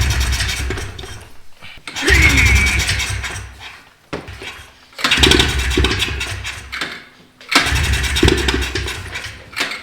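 Four-wheeler ATV engine cranking and catching in several bursts, each start roaring up briefly and then cutting off, with short silent gaps between attempts; loud and close.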